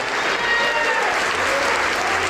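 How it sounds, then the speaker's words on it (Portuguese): A church congregation applauding, loud, dense clapping from a large crowd that fills the space without a pause, carrying a faint murmur of voices underneath. "Vamos aplaudir ao Senhor Jesus por cada vida que está chegando."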